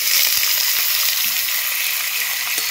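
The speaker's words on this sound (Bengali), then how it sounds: "কেটে রাখা পনিরগুলো ভেজে নেব" Paneer pieces frying in hot mustard oil in a wok, a steady close hiss and crackle of sizzling oil that holds even throughout, with no voices.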